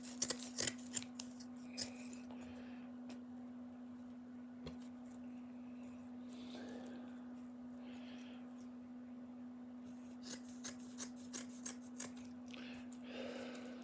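Scissors snip through fiberglass sheet during a van body hole repair, a quick run of sharp cuts at the start, a couple more a moment later, then a later series of crisp close snips after a quieter pause, over a steady background hum.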